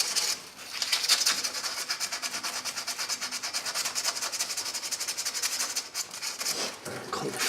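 Brake parts on a 2014 Nissan Rogue rear brake job being scrubbed clean with emery cloth, giving a steady, close, rapid back-and-forth rasping that runs throughout with no talk.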